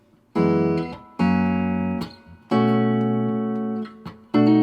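Electric guitar plays a pre-chorus riff: four loud, sustained chords, each held for about a second with short gaps between them; no voices.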